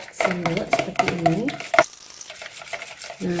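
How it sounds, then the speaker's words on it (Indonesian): An egg is beaten in a bowl with a spoon, giving quick, close scraping and tapping strokes in an irregular rhythm, with faint talk in the background. "Telur saya akan kocok aja dengan sendok seperti ini."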